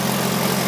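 Exhaust of an engine-powered light tower idles in the cold, a loud, steady low rumble heard up close with no break.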